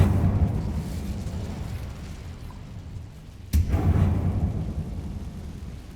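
A sudden blast from the Incendio fire spell in Hogwarts Legacy cuts through a low, steady rumble of game ambience. A single sharp burst is followed by a swelling fiery roar that slowly fades.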